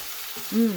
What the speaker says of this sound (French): Et j'ai mis un peu d'ail congelé aussi. Je remue.